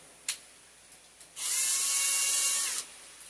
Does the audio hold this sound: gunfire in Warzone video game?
no